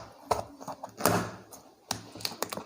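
Packaging on a new HP Pavilion Gaming Ryzen 5 laptop box being cut open, heard as a few sharp close taps and thunks with brief scraping between them and no talking.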